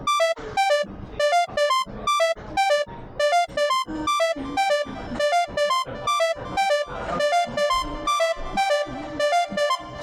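A dry synth pattern from the Mojito instrument, with no delay or reverb, plays a fast, choppy sequence of short bright notes in a steady bouncing rhythm, each stab cutting off cleanly into silence.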